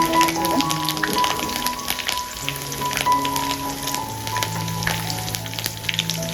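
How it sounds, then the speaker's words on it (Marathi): Busy sizzling and crackling of curry leaves and cumin in hot oil, continuous and fairly loud, with faint tonal hum behind it and no speech. "त्याच्यात कढीपत्ता आणि जिरं घातलं आहे त्यांना सुद्धा छान प्रकारे फोडणी दिली आहे"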